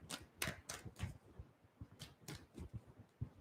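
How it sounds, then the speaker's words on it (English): Rapid papery riffling of tarot cards being shuffled, a quick run of soft crisp flutters and taps close by, quiet and with no talking. "Let's give a big shuffle."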